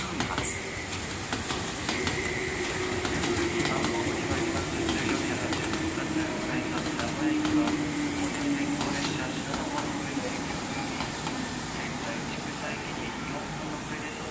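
A Meitetsu 1200 series electric train rumbles steadily as it pulls into Kanayama station platform 4, with a soft, faint horn sounding far off.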